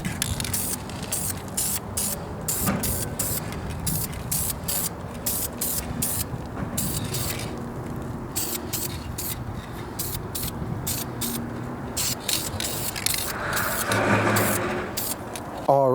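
Aerosol spray paint laying a light first coat on junkyard engine parts for a Mustang, a series of short hissing bursts close to the microphone with brief gaps between them, continuing throughout.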